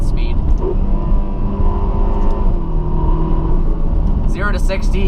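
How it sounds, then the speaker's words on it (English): Turbocharged V8 of a Ferrari California T rumbling steadily as it accelerates, a continuous mid-level engine drone with talking over it throughout. "The V8 still sounds really good for being turboed."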